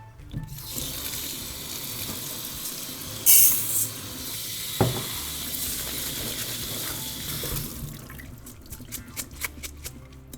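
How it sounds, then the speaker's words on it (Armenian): Rice is rinsed under a running kitchen tap, a steady close hiss of flowing water with a brief louder splash partway through. "Փրինցը լվացենք։"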